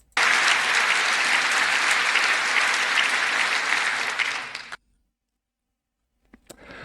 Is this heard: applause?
yes